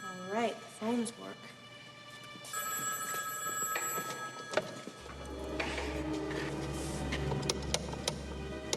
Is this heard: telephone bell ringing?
yes